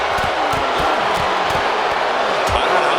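A roaring arena crowd in the wrestling game WWE 2K26 cheers steadily at full volume, with sharp thuds and slams of blows landing in a loose rhythm through the din.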